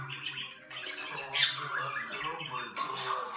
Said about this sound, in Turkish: Bugün muhabbet kuşu eğitimi yapacağız.